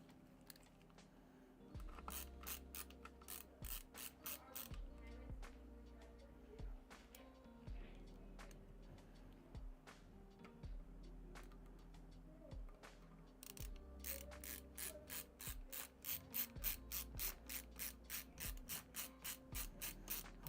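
Tiny SSD screw being driven into a PC motherboard during a desktop build, heard as a long run of fast, close ratcheting clicks from the screwdriver, repeated in bursts that grow busier toward the end.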